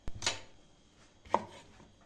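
Green peppers being finely chopped with a knife on a board while making gözleme, two separate sharp knife strikes, close and clear, against a quiet background.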